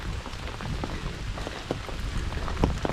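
Rain falling on a wooded Appalachian Trail hike in Virginia, a steady close patter with scattered louder drops hitting surfaces nearby and no voices.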